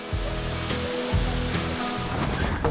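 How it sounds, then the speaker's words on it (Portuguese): The 30-metre Águas da Laje waterfall roars in a steady, dense wash of falling water that continues without a break. "até vermos bem de perto a cachoeira Águas da Laje"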